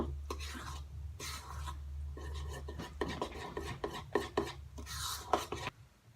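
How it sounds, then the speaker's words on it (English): Cake batter for a rainbow mason jar cake mixed in a bowl, giving rhythmic rasping, scraping strokes in bursts with a low hum running underneath. "and now I'm just gonna start to mix this up."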